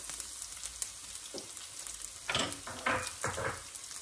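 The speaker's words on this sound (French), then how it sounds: "je vais d'abord mettre mes graines de moutarde, l'ail, le gingembre" Mustard seeds, garlic and ginger sizzle in a hot pan with a quiet, steady hiss that swells into louder crackling bursts toward the end. No voices are heard.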